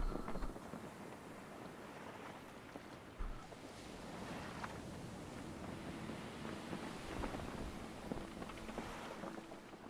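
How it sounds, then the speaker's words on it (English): Storm in the survival game Stranded Deep, a constant roar of wind and crashing ocean waves around a boat, with occasional thuds and creaks, loud and continuous without talk. "You mentioned the storm being loud."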